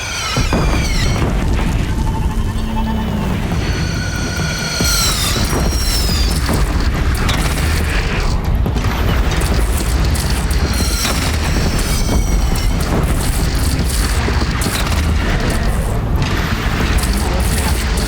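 Cannon fire and heavy explosions boom continuously during the final battle in Horizon Zero Dawn on PC, loud and dense, with shouted voices mixed into the din.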